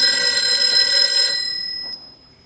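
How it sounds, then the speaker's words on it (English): A telephone rings at an old mountain inn, its bright electric bell trilling loudly and continuously before fading and cutting off near the end, with no voices. "Miss Thorne, if you'd answer that phone, please."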